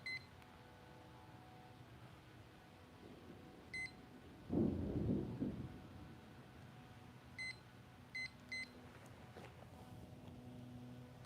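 A yoga session timer gives short, evenly pitched electronic beeps, a few single chirps and a quick cluster of three, faint against a quiet room, with a brief rustle of movement in the middle.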